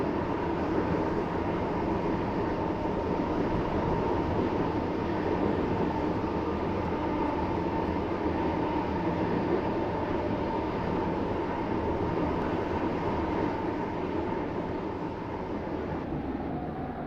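A Stepford County Railway train rolls into Esterfield in the video game, a steady, even rumble of carriages and motors droning on without pause and no voices.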